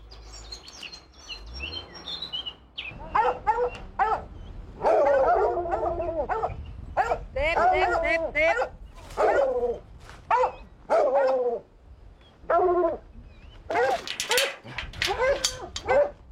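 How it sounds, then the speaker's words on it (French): Hunting dogs in underground burrow galleries bark and whimper in repeated loud bursts, close by, with high whines between the barks and brief human voices mixed in. "Les chiens ne retrouvent plus la piste dans les méandres des galeries."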